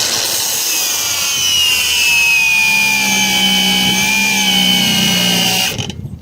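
Shidoku cordless angle grinder loaded down during a cutoff current test, a loud high whine with a grinding rasp that holds steady, then sags and cuts out near the end.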